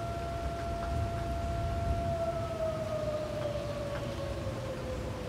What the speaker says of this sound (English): Oh, hear the tornado siren?